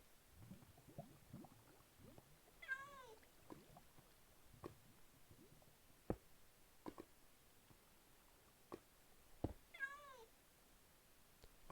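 A tamed cat in Minecraft gives two short meows a few seconds apart, quiet and clear over sparse clicks and footstep-like taps.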